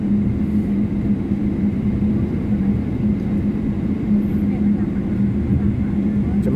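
An airliner readies for takeoff at San Francisco airport, its engines a steady, loud cabin drone with a constant low hum throughout.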